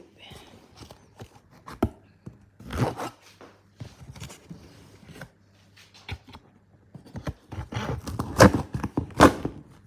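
Packing tape is ripped off a KitchenAid shipping box during an unboxing. Sharp, scratchy tearing bursts come irregularly, growing louder and denser toward the end, with occasional thumps of the cardboard.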